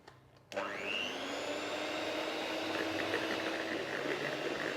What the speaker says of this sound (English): we're going to give this a whisk until everything's nicely incorporated